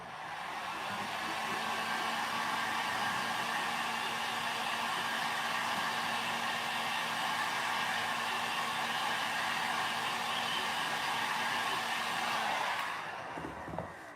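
A hair dryer blows steadily at close range for about thirteen seconds while drying decoupage, a constant loud whooshing roar with a faint hum, then clicks off near the end.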